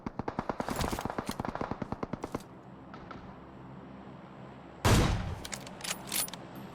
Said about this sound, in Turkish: Ya da arkadan sıkıyorlar.